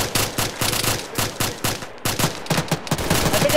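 Rapid bursts of gunfire crack out during a firefight, loud and close, with volleys of shots in irregular clusters and brief pauses between them.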